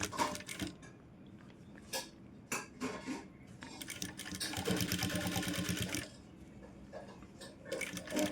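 A sewing machine stitches blouse fabric in short bursts of rapid mechanical clatter, separated by pauses and clicks, with one longer continuous run in the middle.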